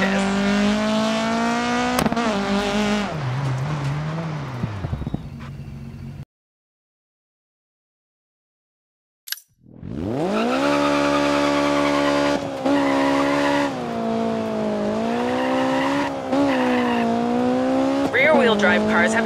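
A rally car in the Dirt 4 video game, driven with handbrake-initiated oversteer: loud engine revving with shifting pitch and tire squeal, a silent gap mid-way, then the engine roaring back up.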